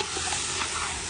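Chicken pieces with hot paprika frying in a pot for kabsa, a brief, dense, close hiss of sizzling oil as the food is stirred.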